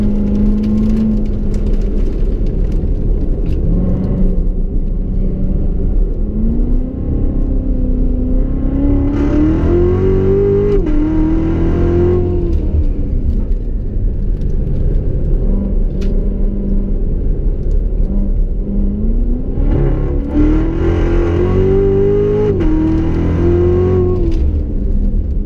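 A Chevy Corvette Z06 with the Z07 package and automatic transmission laps a figure-eight track, its engine droning steadily and then rising in repeated revving surges as it accelerates, with a whirring undertone and no voices.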